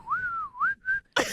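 A woman whistles a clear, wavering tune of three sliding notes, close and alone, ending in a short breathy burst.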